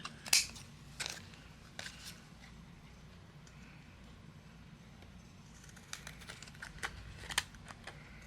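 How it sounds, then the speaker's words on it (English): Scissors trimming overhanging paper away from a card base, a few quiet, sharp snips spaced irregularly over a soft background hiss. "I'll use my scissors and we're going to trim away anything that's overhanging"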